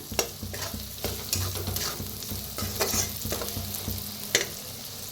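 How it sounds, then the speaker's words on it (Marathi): Red chilli powder roasts in oil on a wood-fired village stove, a continuous nearby sizzle with repeated scraping strokes of a spoon stirring through the pan. "लाल तिखट एक चमच्यावर घातलेला आहे छान भाजून घेऊया तेलातच भाजायचं"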